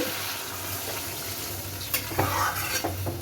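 Rohu fish curry with eggplant being stirred in a frying pan, a steady sizzle and scraping of the spatula with a few louder clinks near the end, close and continuous.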